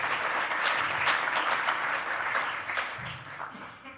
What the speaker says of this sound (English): Very big applause for them.